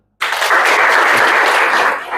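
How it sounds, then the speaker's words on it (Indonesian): Students in a nursing lecture break into a sudden round of applause after a short silence, a loud, dense burst of clapping that holds steady and begins to fade at the end. "Tepuk tangan."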